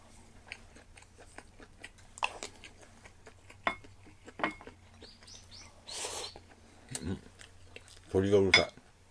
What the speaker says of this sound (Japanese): 鳥がうるさい。